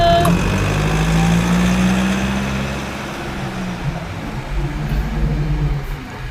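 A car hums along as it is driven, the engine tone starting loud and steady, then easing into a quieter, rougher rumble with road noise.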